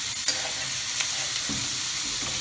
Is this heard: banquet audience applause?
no